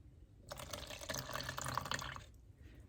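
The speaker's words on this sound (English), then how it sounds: "And then I'm going to go ahead and mix my water in." Water pours into a paint mix for a whitewash finish, a close, steady trickling splash lasting about two seconds before stopping.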